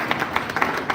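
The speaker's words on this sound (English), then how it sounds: "Let's clap for Patel." An audience claps for a speaker named Patel at a product training session, brisk overlapping hand claps in a steady patter, close and moderately loud.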